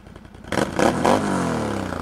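A Can-Am Renegade 1000 ATV engine, fitted with a partly open exhaust, idles briefly and then revs up sharply with a deep, bassy roar that holds steady and close.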